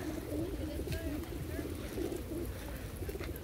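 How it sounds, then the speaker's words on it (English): Pigeons or doves cooing in Hyde Park, soft calls scattered over a steady outdoor background with people talking nearby throughout. "naglalaro ako sa ibon"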